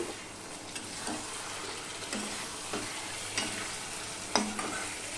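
Chicken in a yogurt sauce is stirred and sautéed in a pan: a steady soft sizzle runs throughout, broken by several light scraping strokes of the spoon, one sharper clink near the end.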